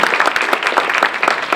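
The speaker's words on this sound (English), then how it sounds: "We'll give them a round of applause," An audience at a community award event gives a brisk round of applause, many hands clapping in a dense, lively burst that fills the room.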